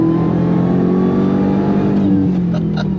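Dodge Charger Outlaw Hellcat under hard throttle, a loud continuous engine drone rising in pitch as it accelerates, with a brief gear-change break near the end, heard alone from close by.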